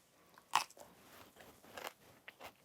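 Crunchy, lightly dressed raw vegetables, broccoli-like, bitten and chewed close up, with one sharp crunch followed by softer intermittent chewing crackles in a quiet room.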